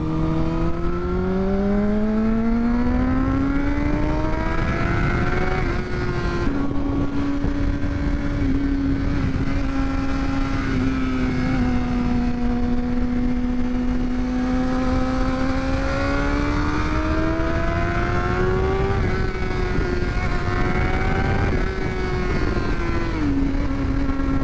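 A 600 motorcycle riding at speed, its engine droning loudly and continuously with pitch rising and dipping through gear and throttle changes, close up under steady wind rush.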